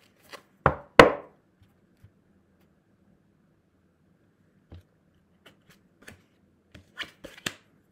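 Tarot cards handled in sparse, sharp bursts, with a couple of louder snaps near the start and then quieter flicks and taps spaced out with silence in between.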